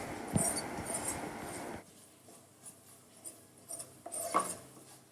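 Macaroni tossed with masala in a pan: soft scraping and clinking of a spoon against the pan, with a denser burst of clatter at the start, then quieter intermittent stirring scrapes.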